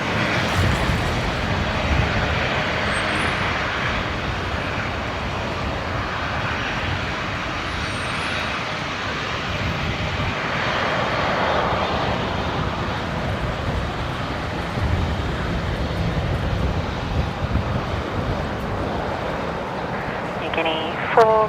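An Air Niugini jet takes off from Brisbane Airport, a loud, steady engine roar building across the runway and lasting throughout, with a faint tower radio voice mixed in.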